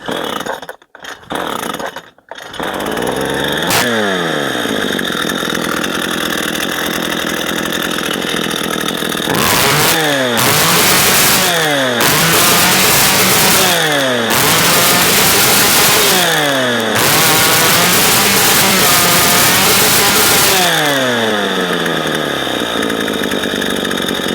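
A Stihl 181c chainsaw engine running after carburetor cleaning and repair, a brief sputter of starting attempts, then a loud, sustained two-stroke whine with repeated revving up and down close by.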